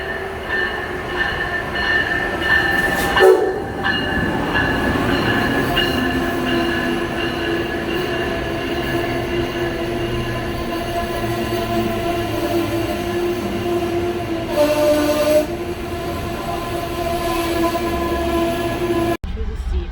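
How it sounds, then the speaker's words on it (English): A train in New York City rumbles past loudly and up close, with steady rolling clatter, metallic screeching wheels and a few sharp clanks. "whoa. That train"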